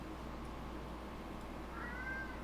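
A domestic cat gives a single short meow near the end, rising then falling, clear over a steady low room hum.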